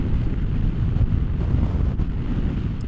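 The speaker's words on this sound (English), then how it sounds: "Yeah, that's pretty daggone windy today." Steady wind buffeting and rushing past the microphone while riding a 2023 Honda SCL500 motorcycle on a gusty day, a continuous loud low roar with no speech.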